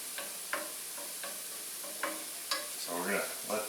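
Onions caramelizing in a pan, a gentle hiss broken by a few sharp pops and crackles, close and quiet with no talk.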